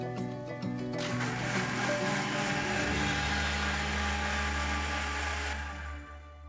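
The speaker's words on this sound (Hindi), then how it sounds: "मिक्सी में पीस के बैटर" A kitchen mixer grinder whirs as it grinds rice soaked for four hours into batter. It starts with a low hum, then surges into a loud, steady motor whine that runs for several seconds before winding down.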